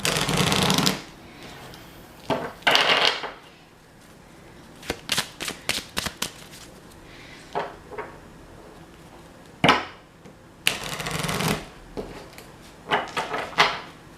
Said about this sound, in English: I'm going to shuffle the deck down here